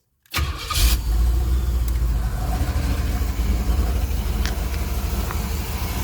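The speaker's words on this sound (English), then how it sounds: "let's start up the car again and see what we can see" A 1977 Pontiac Trans Am with a carburetor likely needing rebuild cranks and catches abruptly, then settles into a steady, loud, rumbling idle that continues close by without talk.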